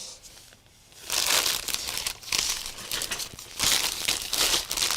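A hand rummages through a bag of sewing trims, making loud close crinkling and rustling bursts after a quieter start, with brief pauses between handfuls.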